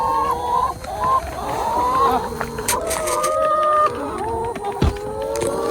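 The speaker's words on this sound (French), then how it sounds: "Des super poules qui font plein de bruit." Several chickens on a farm cluck and squawk nearby in overlapping bursts, with a voice briefly heard among them.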